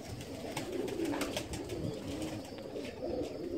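A Ferozpuri pigeon coos softly up close, low rolling coos repeating over a few seconds with some faint handling rustle, no speech.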